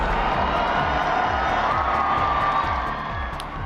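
A large crowd cheers and whoops continuously for Pope Francis at an Easter blessing, a loud, sustained roar of many voices from open outdoor space.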